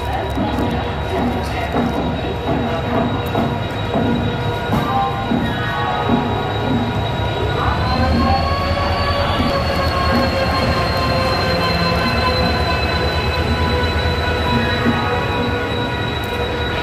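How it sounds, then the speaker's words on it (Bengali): A passenger train pulls into a station platform on the Howrah to Katpadi route, wheels squealing with long sustained tones and steady rumbling, loud and close throughout, with people talking in the background. "ট্রেন এসে গেছে।"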